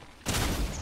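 Shotgun firing in Fortnite, a single sudden loud blast that cuts in sharply and rings on briefly with a dense broadband roar.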